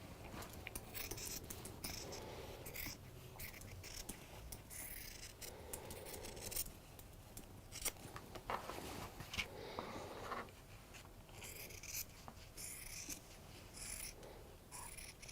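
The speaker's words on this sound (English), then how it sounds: "You love that sound of fabric cutting." Crisp snipping and rasping of scissors cutting through fabric, repeated in irregular bursts at close range, with no talking.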